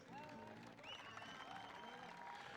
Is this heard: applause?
yes